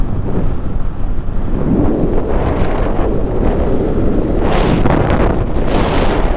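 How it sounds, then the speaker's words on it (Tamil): Strong cool wind buffets and roars steadily across the microphone, loud and continuous, gusting harder near the end. "நல்லா சில்லுன்னு காற்று அடிக்குதுப்பா"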